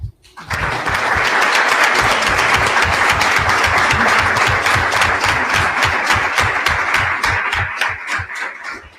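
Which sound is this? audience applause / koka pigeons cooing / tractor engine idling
audience applause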